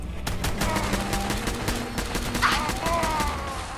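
Sustained automatic gunfire in the Fallout 4 video game, with rapid overlapping shots forming a dense, loud fusillade throughout.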